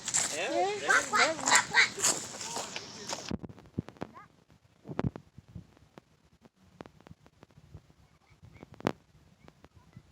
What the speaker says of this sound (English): Naja, we are looking at the ducks